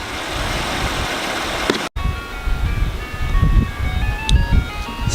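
An ice cream truck's tinkling melody plays outside, its bright chiming notes carrying over the low idle of a 1996 Lexus LS400 engine after a brief cut.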